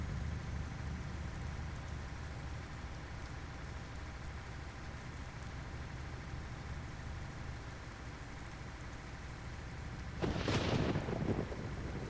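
Steady rain falls in a stormy driving scene from a trucking simulator set in Brazil, a constant hiss under low rumble, with a brief sharp crack of thunder near the end.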